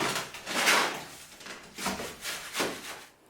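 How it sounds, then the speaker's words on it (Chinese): A tiler mixes sand for leveling or bricklaying, with a series of rough scraping and shoveling swishes coming in irregular bursts, fairly close and moderately loud, with no voices. "那说明是瓦工在拌沙子"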